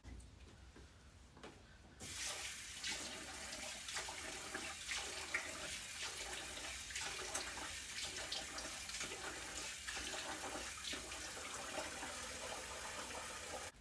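A bathroom tap turns on after a short quiet moment and water runs steadily into a sink while someone washes their face, a constant close splashing rush with faint rhythmic disturbances as hands move through the stream.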